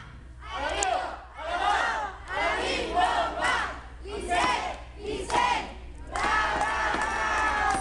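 A large crowd at a quinceañera party shouts and cheers loudly in repeated surging bursts, ending in sustained cheering.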